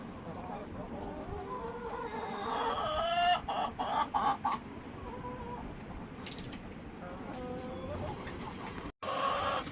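Backyard chickens kept for eggs cluck steadily at close range, with several bursts of sharper clucking and squawks rising over a constant rustling, scratching background.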